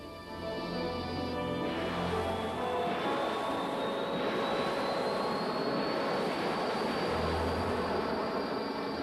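A loud, continuous droning of Korean War fighter-bomber propeller engines, a steady roar with a slowly rising whine as a plane passes close by.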